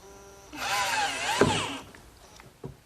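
Drill driving a 5/8-inch screw into an oak bathroom vanity joint, a single close, loud whine lasting about a second with the pitch dipping under load, followed by faint clicks.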